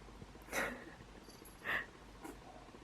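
Two small, soft sneezes from a cat close by, a second apart, followed by a faint snuffle in a quiet room.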